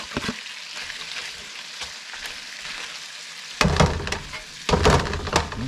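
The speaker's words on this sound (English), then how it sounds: "We got her frying good." Onions, peppers and mushrooms fry in a pan with a steady close sizzle, which swells into louder, crackling bursts about halfway through and again near the end.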